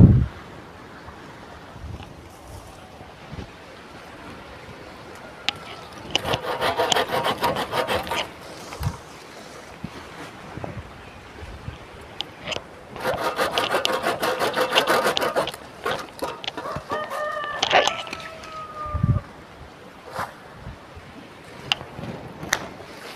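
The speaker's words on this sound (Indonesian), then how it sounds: "Kita harus menggunakan gergaji." Two long bouts of steady back-and-forth rasping as a hand saw cuts through wood while pruning vanilla plants, with quieter scraping and knocks between, outdoors.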